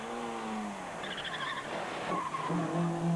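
A rally car on a narrow lane at the 1997 Jersey Rally skids through a left-hand corner, tires squealing and the engine whining in rising and falling pitch, fairly close and loud with no talk.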